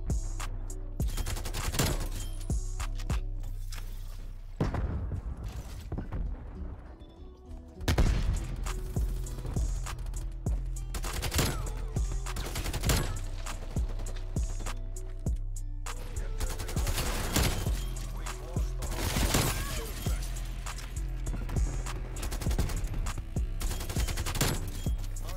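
KRIG 6 assault rifle fire in the shooter game Call of Duty: Cold War, loud close bursts and sustained automatic volleys rattling almost continuously with brief gaps, a heavy low thump underneath.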